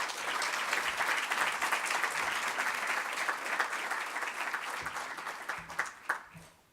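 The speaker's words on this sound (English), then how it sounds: "Please give her a round of applause." Audience applause welcoming a keynote speaker at a student scholars symposium, a full hall clapping steadily before it thins out and fades with a few last claps.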